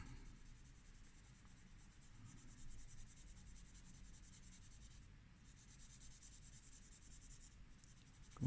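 Graphite pencil shading on paper in a drawing tutorial: a faint, continuous scratchy rubbing of repeated strokes that runs steadily throughout, close and quiet.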